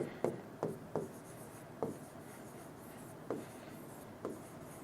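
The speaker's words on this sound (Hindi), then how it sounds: "मैं यहां पर वर्ड लिखता हूं" Pen or pencil writing words by hand on paper, heard as six short separate scratchy strokes spaced irregularly over a quiet room background, close and fairly faint, with no talking.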